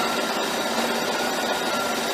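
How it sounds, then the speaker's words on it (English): A 1995-1999 Buick LeSabre engine idles with the transmission hot, giving a steady, even, close hum and hiss with no change in level and no voices. "Transmission hot, engine idling."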